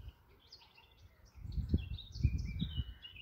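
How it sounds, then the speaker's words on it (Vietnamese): Birdsong from several birds carries faintly from a distance in a German garden in spring, thin chirps scattered throughout while a louder low rumble of handling or wind rises in the second half. "Các bạn có thể nghe thấy tiếng chim hót từ xa."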